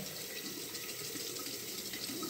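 Tap water runs steadily into a sink while a razor is rinsed, a soft continuous hiss and splash at low level with no speech.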